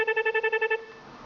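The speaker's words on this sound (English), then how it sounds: "We can go through all of the ringtones." A Cisco desk phone running eMetroTel firmware plays a ringtone as a quick train of about eight bright, evenly spaced electronic chirps, then falls silent.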